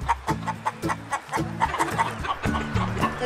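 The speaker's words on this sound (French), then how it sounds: "J'ai repéré des poules là-bas." Farm hens cluck close by in quick, rhythmic bursts of short calls, loud and lively, with no speech.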